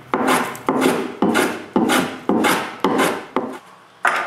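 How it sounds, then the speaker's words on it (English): Rhythmic rasping strokes of a hand plane shaving wood, about eight even passes in a row, loud and close with short gaps between. "I use end planes."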